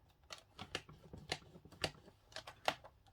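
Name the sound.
scoring fold lines on card stock for a card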